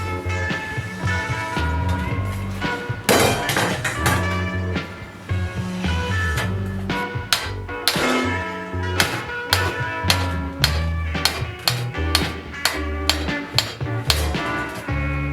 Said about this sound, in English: I will start hammering the bottom.